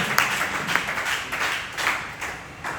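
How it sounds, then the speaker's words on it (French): Congregation clapping at a Tuesday evening church service of divine healing, a dense burst of applause with a few sharper claps standing out, fairly loud and close. "Applaudissez pour le Seigneur Jésus-Christ."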